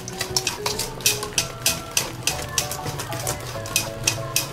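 A balloon whisk stirs homemade English fruitcake batter in a bowl, giving a steady run of sharp metallic clicks and scrapes against the bowl in a quick, even rhythm, close and alone.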